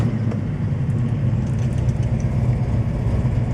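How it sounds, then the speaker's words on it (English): A 1967 Chevrolet Chevelle SS engine idling, a steady, deep low rumble with an even pulsing beat, close and fairly loud with no voices over it. "Car's idling like it's supposed to."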